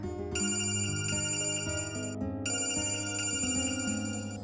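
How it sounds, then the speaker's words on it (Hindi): A telephone rings with a bright, repeating electronic ringtone that plays steadily and loudly for several seconds, with no voices. "अरे ये तो कल वाली आंटी का फोन है।"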